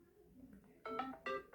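Samsung Galaxy '8-bit bounce' notification: after a faint murmur, two short bursts of bouncy, chiptune-style electronic tones play in quick succession, clear and moderately loud.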